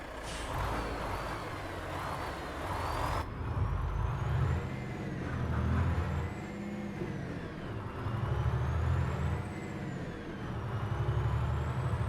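Road traffic is heard from the cab of a Renault Range T Evo truck in a driving game: a steady engine drone with recurring low rumbling swells and a sharp hiss near the start, no talking.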